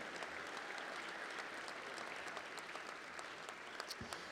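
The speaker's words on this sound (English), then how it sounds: "How about one more round of applause?" Sustained applause from an audience at a sports hall of fame induction ceremony honoring the Sweet Home Girls High School volleyball team, a steady, even wash of clapping heard from a moderate distance.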